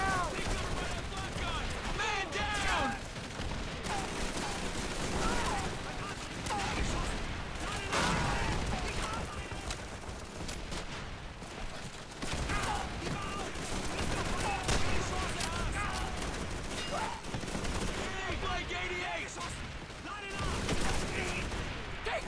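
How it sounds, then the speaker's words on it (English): Machine gun fire in the World War II shooter Call of Duty 3 rattles on steadily across the whole stretch, dense and layered with scattered shots, while a voice talks over it. "The machine gun is ripping me up"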